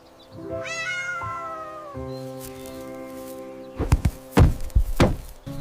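Farm cat meowing close, one long drawn-out wavering meow followed by a shorter one, then a few sharp thumping knocks near the end.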